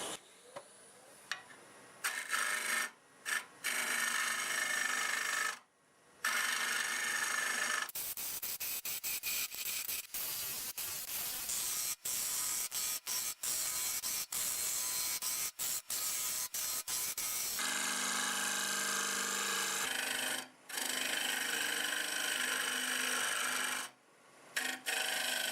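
A wood turning tool cuts a redwood crotch bowl with a big knot on a lathe, a loud, continuous rough hissing scrape broken by a few short gaps and a stretch of crackly, gritty cutting in the middle.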